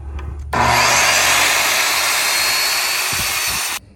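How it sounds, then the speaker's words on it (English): A sliding compound miter saw whines loudly through a compound miter cut in wood, a steady roaring cut of about three seconds that starts and ends sharply. "Here's my compound miter cut."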